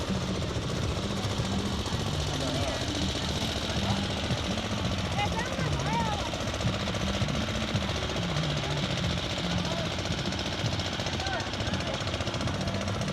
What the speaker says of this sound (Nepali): कोशीबाट ट्र्याक्टरमा पानी तान्दै गरेको अवस्था